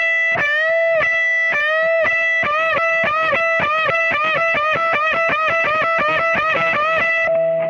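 An electric guitar with distortion plays unison bends, the two notes picked separately in quick succession, producing loud, repeated wavering pitch bends that bunch into a fast run before a final held note.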